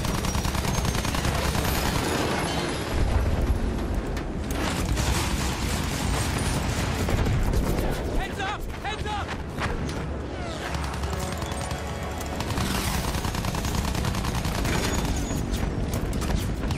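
Dense, relentless gunfire from the World War I shooter Battlefield 1 crackles without pause, with rapid machine-gun bursts layered over booming blasts and clattering mechanisms in a loud, chaotic battle.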